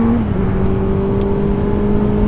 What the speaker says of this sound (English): That was a horrible shift